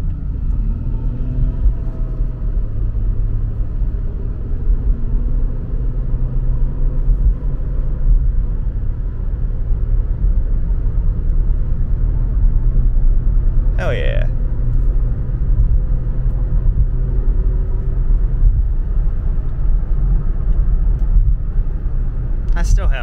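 A 2010 Lincoln MKS on a short drive, its steady engine and road rumble filling the cabin throughout, with a man's brief exclamation and some talk over the constant low drone.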